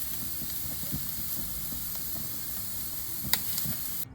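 Steaks sear on a Ninja FlexFlame grill turned up to high heat, giving a steady close sizzle and hiss with a few small pops and crackles throughout.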